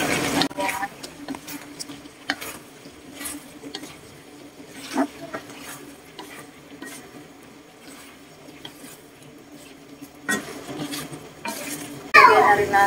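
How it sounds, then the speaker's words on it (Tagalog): Green beans and carrots being stir-fried in a pan for pancit bihon, with a spatula scraping and clinking against the metal in bursts over a soft sizzle, close and moderately loud. "ilagay natin itong baguio beans at carrots"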